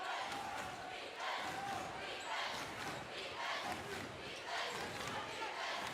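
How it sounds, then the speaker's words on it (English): Home crowd in a college basketball gym, CBU Lancers against Long Beach, roaring and cheering in a sustained wash after an early scoring run, fairly faint and distant, with a commentator talking over it. "A big, loud crowd, and they're fired up after 5 consecutive points by CBU"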